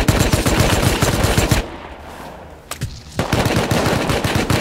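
AK rifle gunfire in Rust during a wipe-day fight against a large clan: loud, close rapid automatic bursts, then a brief pause with a couple of isolated shots, then another sustained burst of fire.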